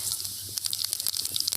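A short burst of hissing and crackling as a spoonful of fennel seeds hits hot oil, sputtering in quick pops.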